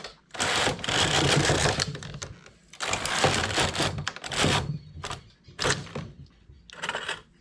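A knitting machine works a sea foam stitch variation with rapid rattling, clacking carriage passes in several loud bursts and gaps, close by; the machine is skipping stitches a little.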